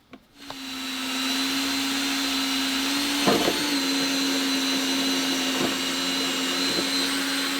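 A power drill bores a hole through the wall of a van being built out, a sustained steady whine after a brief start-up, with a few small knocks as it works, close and alone.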